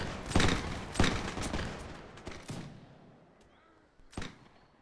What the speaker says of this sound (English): Right, now you can fire at will.